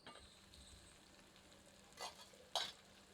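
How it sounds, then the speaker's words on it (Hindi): Kadaknath black chicken korma masala is stirred with a ladle over a quiet pan, with a faint steady sizzle and two brief, sharper scraping strokes near the end. "एक बार अच्छी तरह कड़छी चलाते हैं।"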